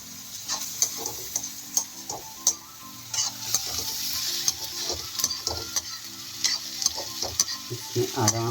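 Onions frying in a pan while being stirred, a steady close sizzle broken by frequent scraping and tapping strokes of the spoon against the pan.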